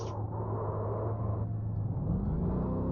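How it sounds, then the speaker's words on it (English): Race car engine in a racing game at Echo Park Speedway, a steady loud droning rumble as the driver eases off and back onto the throttle, pitch rising slightly toward the end, with no voices. "You can hear him modulating his brake and gas here."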